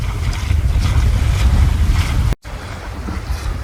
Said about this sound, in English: We're having a good sail